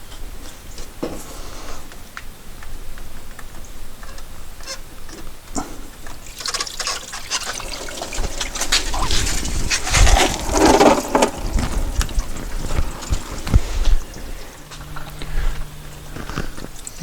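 Coolant drains from a 1993 VW Cabriolet into a drain pan, a soft, continuous splashing trickle that grows louder and gurgles midway before easing, heard close with no talk.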